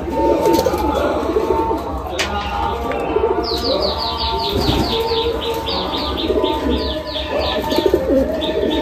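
Old Madrasi pigeons cooing in a loft, soft repeated coos and chirps close by over a steady background hum, with brief wing flutters.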